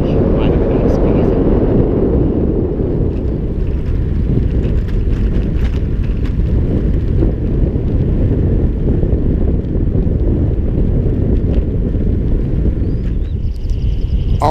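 Strong wind blows against the microphone of a cyclist out riding. The roar is loud and constant and dominates throughout.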